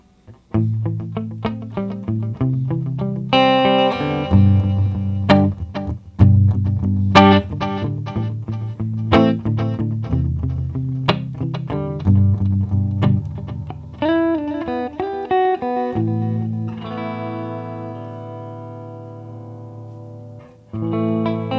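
Electric guitar notes and chords repeat through an Onerr Digital Delay DD-1 pedal, each echo trailing behind the playing and growing rougher and grainier as it repeats.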